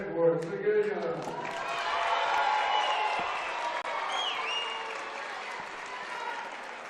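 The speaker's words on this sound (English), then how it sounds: "Big contingency here cheering for these guys." A large group cheers and applauds karate finalists at the 2025 USA Karate Open Finals, a sustained swell of clapping and shouts filling the hall, with a voice talking near the start.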